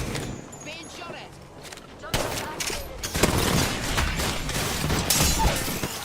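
Gunfire rattles through a Black Ops zombies match, starting quieter and then bursting into loud, rapid volleys with sharp cracks, while a voice talks over the shooting.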